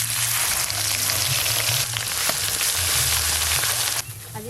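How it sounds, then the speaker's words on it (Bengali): Whole garam masala, mace and a bay leaf sizzle loudly in hot oil in a pan, a dense, continuous crackling hiss that stays close and steady throughout. "এখানে আছে গোটা গরম মশলা, জয়িত্রী আর একটা তেজপাতা ফোড়নে দেব"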